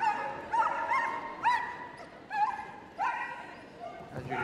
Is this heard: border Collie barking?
yes